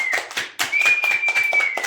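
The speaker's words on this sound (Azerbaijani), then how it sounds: "Aferin, alqışlar, alqışlar" Hands clap in a steady, close rhythm at a family birthday celebration, with a brief pause partway through before the clapping resumes.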